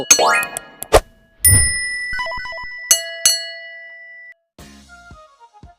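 Several bright notification dings and chimes ring out in quick succession, each sharp tone hanging briefly before fading, separated by short silences and followed by a quieter descending run of tinkling notes.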